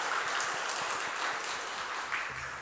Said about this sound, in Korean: 박수 한 번만 더 격려하며 박수할까요?